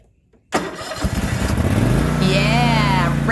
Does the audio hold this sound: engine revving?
yes